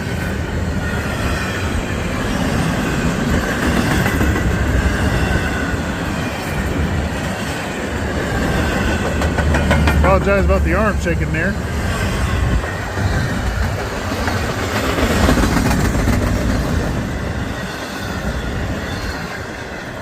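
A freight train of empty intermodal cars rolls past close by, a loud, continuous rumble with rattling wagons and brief wheel squeal. Someone speaks briefly over it.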